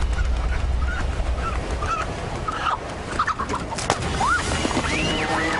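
Chickens clucking and squawking close by, with several agitated calls and rising honk-like squawks overlapping over a rumbling outdoor background.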